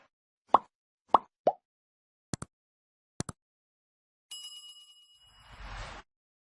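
Notification bell sound effect in a like-and-subscribe sequence: three soft plops, two pairs of sharp clicks, then a ringing bell chime with a short whoosh, all alone.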